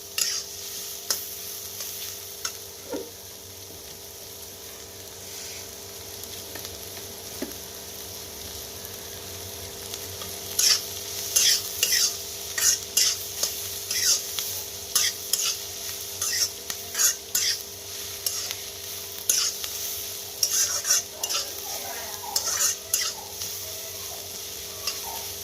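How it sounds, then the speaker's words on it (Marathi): Onions roasting in a pan for a Malvani-style chicken curry, quiet at first, then a long run of brisk, repeated spatula scrapes and clatters over a soft sizzle. "चांगलो असं गुलाबी रंगात कांदो होईपर्यंत चांगलो भाजून घ्यायचो"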